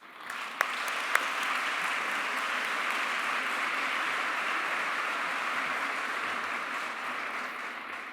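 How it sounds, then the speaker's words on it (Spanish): Warm, steady applause from a conference audience at a school-violence congress, welcoming a speaker; a few sharp claps stand out near the start before the clapping settles into a dense, even wash that continues throughout. "Le damos la bienvenida con un cálido aplauso."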